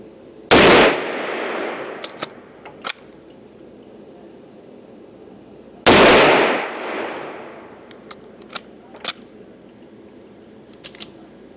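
A Smith & Wesson 1854 lever-action rifle in .44 fires two loud, booming shots about five seconds apart, each trailing a decaying echo, followed by sharp metallic clacks from the lever cycling.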